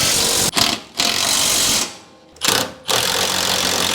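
Bolts being driven in with a power tool to mount a saddle tank cross member on a Chevy COE truck, steady loud buzzing tool bursts broken by two short pauses, close up with no talk.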